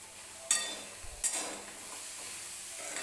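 Green chickpeas dry-roasting in a pan, with a soft steady hiss and two sharp scraping stirs near the start, then a low continuous crackle for the rest.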